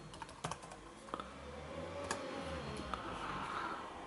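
Keys tap on a Lenovo ThinkPad laptop keyboard, a handful of crisp, close clicks spaced irregularly over a low background hum, with no talk.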